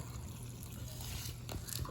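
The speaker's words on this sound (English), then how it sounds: "So I got my hot water. I'm going to pour it in the Dorito bag." Hot water poured a little at a time into an open Doritos chip bag for a jailhouse meal, a faint, soft trickle running through the short stretch with no speech.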